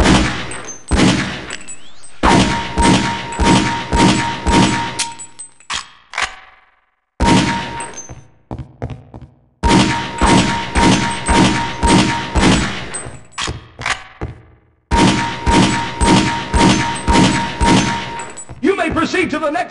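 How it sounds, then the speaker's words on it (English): Rapid bursts of pistol fire on a firing-range target course in Opposing Force ring out loud and close, in repeated strings of shots separated by short pauses, each hit followed by a metallic clang or ding. "The goal is for you to place 6 shots within the inner circle of each target."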